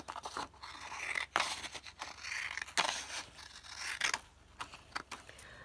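Core collection paper being cut down to size with scissors, a run of close, crisp snipping and crunching strokes in uneven rhythm with brief pauses between cuts.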